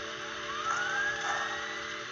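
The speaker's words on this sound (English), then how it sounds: "And now you hear the steam generator, or the dynamo working." Bachmann HO scale model train's steam generator dynamo sound effect, a steady electronic hum with a thin rising whine that swells briefly in the middle, fairly quiet, with no voices.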